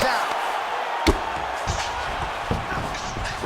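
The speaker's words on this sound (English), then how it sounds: "the canvas is shaking as he slams him down" An MMA fighter is slammed down onto the canvas during a Khabib Nurmagomedov vs Nate Diaz bout. A single heavy thud lands early, then smaller impacts follow under steady commentary and crowd noise.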